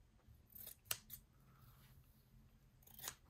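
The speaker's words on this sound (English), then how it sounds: "I'll just use the scissors." Scissors snip through playing-card material in a craft project, a few quiet, crisp cuts in a loose rhythm, up close with no talking.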